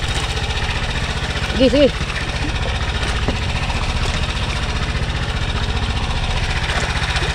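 A small wooden bangka boat's engine idles close by with a steady, rhythmic knocking chug that runs throughout, while someone speaks briefly over it.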